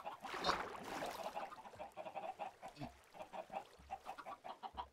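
Chickens cluck in the video game Minecraft, with a burst of bird calls near the start followed by a steady run of short clucks at a moderate, close level.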